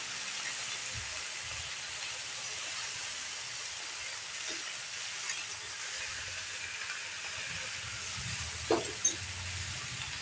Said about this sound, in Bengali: আদাটা জাস্ট একটু কষিয়ে নেব, বেশি ভাজবো না আদাটা